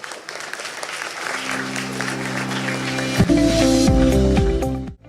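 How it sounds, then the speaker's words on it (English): At a school event, a hall audience applauds the best outgoing student with strong, dense clapping, while music starts up partway through and swells beneath the applause before it abruptly stops. "Please give a big round of applause."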